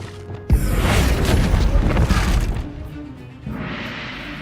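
A Bombarda blast spell from the Hogwarts Legacy game goes off as one sudden loud boom. A roaring, crackling rumble follows for about two seconds and fades, then a softer hissing swell comes near the end.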